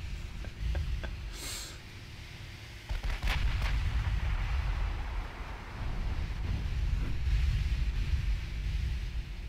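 Booming 12-inch naval gun fire from a dreadnought in the warship game Ultimate Admiral Dreadnoughts, with sharp blasts and rumbling reports over a continuous low roar of wind and sea.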